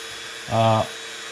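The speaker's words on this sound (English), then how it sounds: "Part of the problem with a Dremel or rotary tool is see this spinning deal right here." A Dremel rotary tool gives a single short, high whirr lasting about a third of a second while working on a Dr. Grabow Savoy tobacco pipe during waxing of the bowl.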